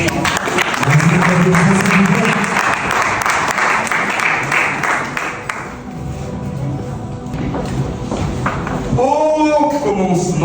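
A room full of people applauds at the opening session of an eloquence club, the clapping sustained and loud for several seconds. A voice and some tonal sounds come through over the applause.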